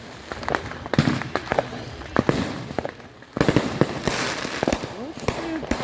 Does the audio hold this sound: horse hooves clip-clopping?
no